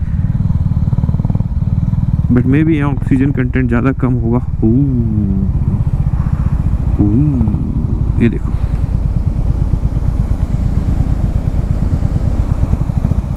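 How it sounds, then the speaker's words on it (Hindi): Motorcycles labor up a steep mountain road near Nathula Pass in Sikkim at around 10,000 feet, engines droning loud and steady throughout while someone talks over them. "बाइक्स का थोड़ा सा पावर लग रहा है"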